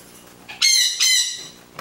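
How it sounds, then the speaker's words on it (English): A pet bird lets out two loud, harsh calls in quick succession, each about half a second long, close by and with no talking over them. "My bird's making a lot of noise."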